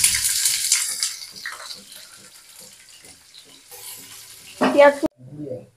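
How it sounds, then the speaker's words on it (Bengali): Hot mustard oil crackles and sizzles as chopped onions are tipped into a pan, with brief clatters and a faint voice in the background. "তেলটা গরম হয়ে গেছে, এবার আমি তার মধ্যে দিচ্ছি পেঁয়াজ কুচিটা দিয়ে দিচ্ছি"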